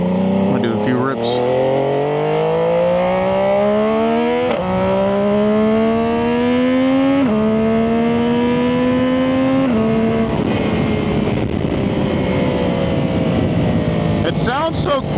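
A Triumph 675SS motorcycle with a full IXIL exhaust revs hard and close, with several rising pulls, each one cut off by a sharp shift, followed by a loud, raspy run.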